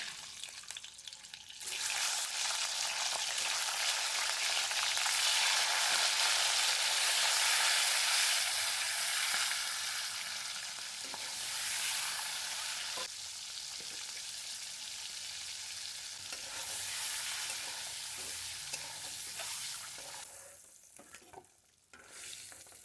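Eggs dropped into hot salted oil in a pan for an egg curry burst into a loud, close, crackling sizzle that holds steady, then gradually eases, with stirring scrapes near the end.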